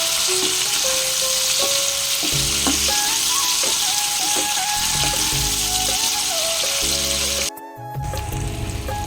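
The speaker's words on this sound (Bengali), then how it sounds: "সব একসাথে এবার ভেজে নিই।" Pumpkin with tomato and green chili fries in a pan, a steady loud sizzle with stirring scrapes and clatter close by, briefly dipping near the end before resuming, with no one talking.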